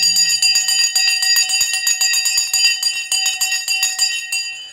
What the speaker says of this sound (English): we're going to ring the bell in 3, 2,